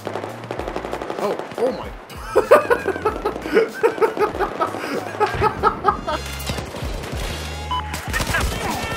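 Automatic gunfire in the video game Battlefield 4, loud bursts of rapid shots crowding the middle of the clip, with a voice exclaiming and laughing over and between the bursts.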